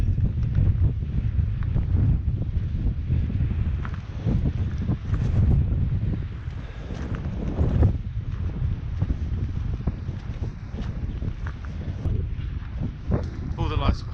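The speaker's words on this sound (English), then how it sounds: "lots and lots of wind." Strong wind buffeting the microphone on a hillside walk near Honister, a constant low roaring rumble with gusty surges rising and falling throughout.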